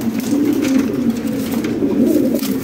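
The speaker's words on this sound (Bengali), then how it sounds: "ডাকতেছে এটা মেল" A male Lahori pigeon coos close up in a low, rolling, continuous call that swells twice, with faint background noise and no speech.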